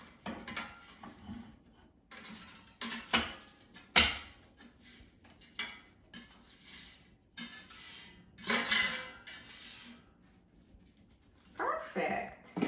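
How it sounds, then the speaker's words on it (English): Potatoes and mushrooms, cooked until browned, are taken out of an air fryer: a run of clinks and scrapes of dishes and utensils, with irregular knocks and rustles close by, under stretches of talking. "So let's take it out of the air fryer."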